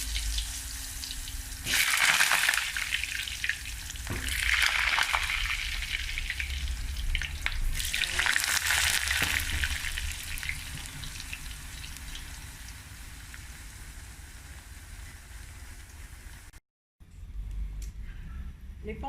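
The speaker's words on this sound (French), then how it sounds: "on va passer à la friture des pommes de terre et des oignons" Potatoes frying in oil for a Majunga-style biriani, a steady crackling sizzle with louder bursts near the start that settles into a softer continuous hiss, close and alone.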